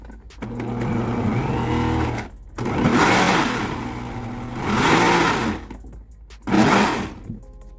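A loud blender motor whirs in three bursts, each running a couple of seconds with brief pauses between, pulsing a thick milk cake batter.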